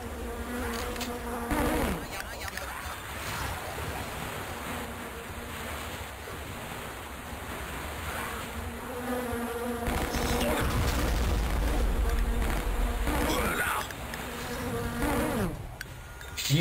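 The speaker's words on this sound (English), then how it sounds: "You've really got to watch out for those bees" Bees buzzing in the retro shooter game Shadow Warrior Classic Redux, a steady droning insect hum that runs throughout and thickens in the second half over a low rumbling game ambience, with no talking.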